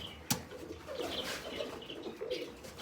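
Pigeons coo softly and steadily at a pigeon house, with a sharp knock or wing flap near the start and a low background murmur throughout.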